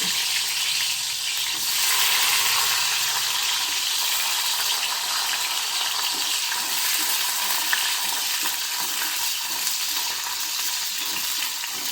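Cashew nuts frying in hot oil for a chicken biryani, a steady, loud bubbling sizzle with occasional stirring, running continuously without any talk.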